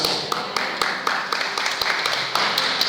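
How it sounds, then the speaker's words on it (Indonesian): Audience clapping in a Pentecostal church during a Sunday morning service, a dense patter of many hands with sharper claps standing out, steady and fairly loud for a few seconds. "Ragu dalam tepuk tangannya"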